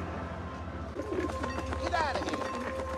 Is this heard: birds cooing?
yes